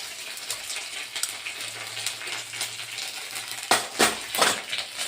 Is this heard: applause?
no